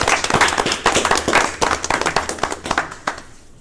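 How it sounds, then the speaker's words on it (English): A school board meeting audience claps in a short round, the individual hand claps distinct and brisk, a small group close by that tapers off quickly. "I'd like to give them a well-deserved round of applause for their right effort."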